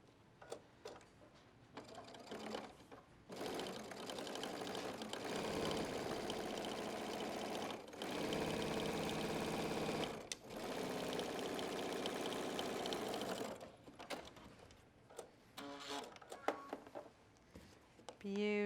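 Sewing machine running in long sustained bursts as it stitches a flat felled seam on denim shorts, loud mechanical whirring with brief pauses between runs and quieter handling noises at the end.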